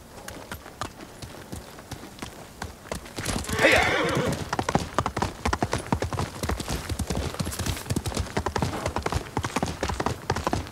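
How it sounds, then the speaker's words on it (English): In the video game Ghost of Tsushima, a horse whinnies loudly, then hooves clip-clop in a steady galloping rhythm that continues close by throughout. "Maybe I should get my horse though."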